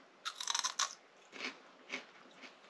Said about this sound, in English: This is just a snap pea, but it's crunchy and delicious.